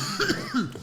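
A single short, close cough, a quick rough burst in two quick pulses, with no talking.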